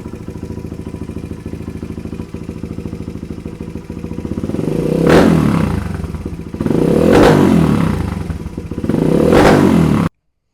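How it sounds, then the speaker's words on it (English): A Honda XR100R dirt bike engine idles with a steady chugging rumble, then revs three times in loud surges, each rising and falling back, until it cuts off abruptly. "we got the bike running"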